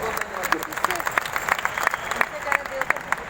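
Applause from the audience at a network marketing meeting in Delhi, a crowd clapping with sharp individual claps standing out over a continuous patter, reverberant and lively, with some voices mixed in.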